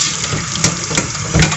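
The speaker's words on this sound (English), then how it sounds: "rinse my strainer" Running water splashes steadily as a coffee strainer is rinsed under it, a brief close hiss of flowing water with small bumps of movement.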